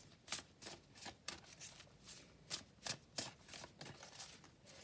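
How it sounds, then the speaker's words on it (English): Oracle cards from a Shaman's Dream deck are shuffled by hand, making quiet, close riffling bursts in an irregular rhythm with soft flicks and taps as cards are laid down. "So I'm going to put down an oracle card from that deck."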